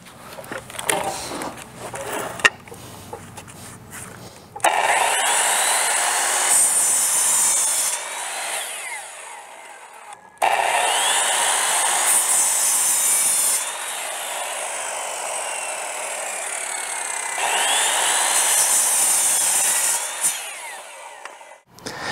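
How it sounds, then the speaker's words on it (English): A 10 inch compound sliding miter saw cuts through wood in three loud passes, each a sustained whining roar lasting several seconds, with short pauses and quieter motor and handling noise between cuts. "I'm going to try running this 10 inch compounds sliding miter saw"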